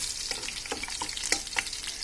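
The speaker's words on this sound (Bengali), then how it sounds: "হালকা জাস্ট হালকা একটু রসুনটা ভাজা হলে" Garlic lightly frying in a pan for fridge rice, giving a steady close sizzle broken by irregular sharp crackles and a few stirring clicks, with no voices.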